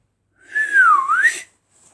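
A single clear whistled note sliding down and then back up in pitch, close and solo, lasting about a second.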